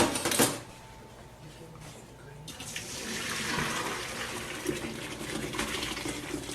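Cooked noodles and water poured from a pot into a colander in a kitchen sink: a sharp clank, then a steady rushing, splashing pour that carries on to the end.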